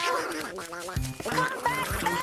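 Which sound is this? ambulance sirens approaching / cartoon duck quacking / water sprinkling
cartoon duck quacking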